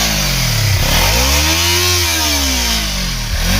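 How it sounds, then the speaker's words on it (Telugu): Kawasaki Ninja 300 motorcycle engine revving loud and close, pitch sweeping up and back down in a smooth arc, then dipping and rising again, with no talking. "ఫైనల్ గా ఈ బైక్ యొక్క రోరింగ్ ఎలాగుందో తెలుసా?"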